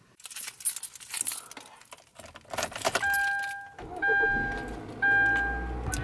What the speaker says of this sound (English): I was really excited my car just started normal